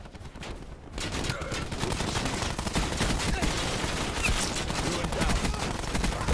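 Gunfire in Call of Duty: Black Ops 4 hammering against a riot shield, a dense continuous barrage of rapid shots that stays loud and close for most of the clip after a brief quieter start.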